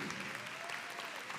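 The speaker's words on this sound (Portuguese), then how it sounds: "Também quero aumentar a salva de palmas para eles" A corporate audience gives steady applause from many hands. It sounds quiet and somewhat distant, sustained and even throughout.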